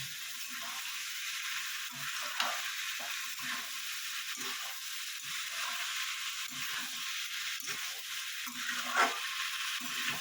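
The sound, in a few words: stir-frying watermelon rind with prawns in a pan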